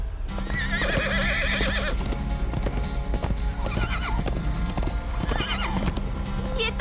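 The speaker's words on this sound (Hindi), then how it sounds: "ये तो ढोलकपुर का सैनिक घोड़ा है।" Cartoon horse, a soldier's steed from Dholakpur, clip-clopping steadily at a gallop with loud whinnies rising over a busy music-and-effects bed, hooves continuing throughout.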